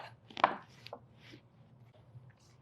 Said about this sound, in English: So we took our heirloom tomatoes and we gave them just a small chop.